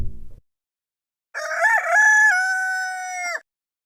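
A rooster lets out one loud, close cock-a-doodle-doo crow, drawn out for about two seconds, after a brief low sound and a short silence.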